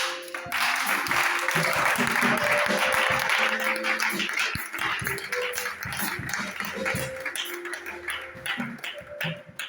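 A church congregation applauds loudly, with dense clapping that peaks early and then thins into scattered claps, mixed with voices.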